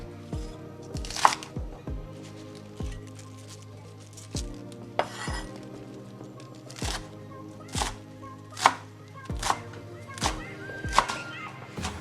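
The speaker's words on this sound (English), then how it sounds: "Our mustard green can be roughly chopped." A knife chops mustard greens roughly on a cutting board, giving a series of sharp, irregular knocks spaced about a second apart, close and clear over a faint steady background.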